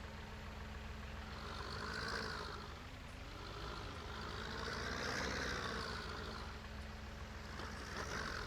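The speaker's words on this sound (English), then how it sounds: "let's get the harvester unfolded." A forage harvester unfolds in Farming Simulator 19, giving a steady mechanical engine drone with slowly rising and falling hydraulic whines, faint and continuous, with no talk.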